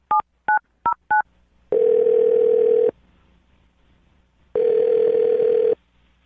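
A telephone call being placed: four short dual-tone keypad beeps in quick succession, then two long steady dial or ringback tones separated by a pause, clear and alone with no talking.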